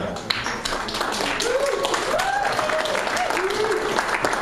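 Audience applause in a comedy club at a stand-up show, steady dense clapping throughout with voices and laughter mixed in.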